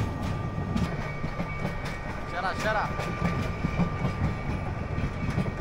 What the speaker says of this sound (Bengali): কিন্তু বিশাল বড় লম্বা ট্রেন